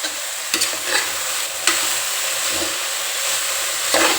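A spoon stirs sprouted gram curry frying in a pan with salt, scraping now and then over a steady sizzle and hiss for a few seconds, with no talking.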